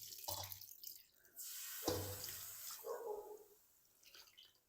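Cold water poured from a tap over spinach, splashing and trickling in short bursts with brief pauses, close and fairly quiet.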